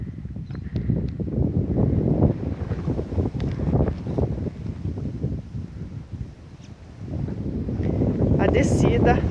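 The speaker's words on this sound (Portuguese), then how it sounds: "O vento aqui tá bem fortinho" Strong wind gusts across a hilltop on Morro do Vigia, hitting the microphone with loud, rough buffeting that dips briefly halfway through and then builds again, while people talk throughout.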